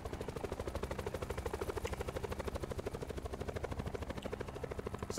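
A helicopter in Call of Duty Black Ops 4 Blackout drones steadily, with its rotor beating in a fast, even pulse throughout, loud and close, while faint gunfire pops now and then.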